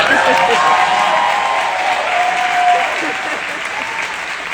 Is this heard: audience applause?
yes